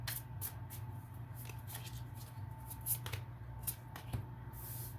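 Tarot cards are shuffled and drawn by hand, quiet close-up riffling and a few sharper card flicks and slaps against a faint background hum.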